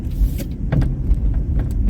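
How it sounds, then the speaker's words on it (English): A big truck passes nearby, its engine rumble swelling and fading with a few sharp rattling transients over steady low road noise. "That's a big ass truck."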